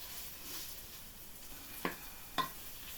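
Chicken pieces browning in a pan for Afghan chicken, a quiet steady sizzle with two brief scraping stirs of the utensil near the end.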